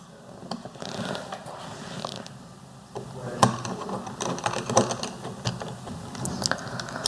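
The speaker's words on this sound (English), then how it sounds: "Now, reattach the bottom plate to the instrument with the 4 screws." Small screws are driven to fasten the bottom plate back onto an instrument, giving quiet, close ratcheting clicks and scrapes in irregular bursts over faint room hiss.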